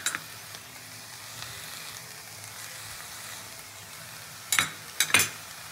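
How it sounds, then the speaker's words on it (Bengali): Fried eggplant is stirred into cooked leafy greens in a pan, with a faint low sizzle under soft scraping and a few sharper spoon knocks near the end, close and quiet with no talking. "বেগুনটাও শাকের সঙ্গে খুব ভালো করে মিশিয়ে নেব।"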